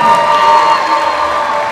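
Audience applause and cheering for contestants at a Miss/Mrs/Teen India USA 2022 pageant, a dense, steady wash of clapping and crowd voices filling the room from start to finish.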